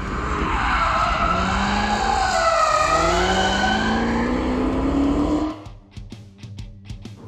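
A Chevrolet Camaro ZL1 slides sideways with a long, loud, continuous tire squeal and skid, its pitch swooping up and down, then cutting off abruptly into a short burst of rapid engine pulses.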